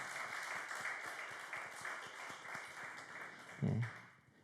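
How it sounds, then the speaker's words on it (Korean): A church congregation applauds steadily during a Sunday service in a large reverberant hall, a sustained wash of many hands clapping with a brief louder burst near the end. "우리 하나님 앞에 함께 영광의 박수 올려드립시다."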